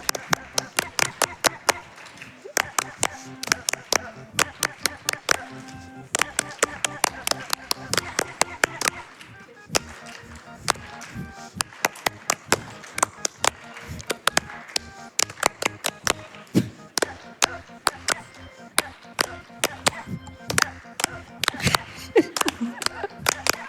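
A live event audience claps along in rhythm to a song made entirely of barking, with a steady stream of hand claps while a commentator talks over the music throughout.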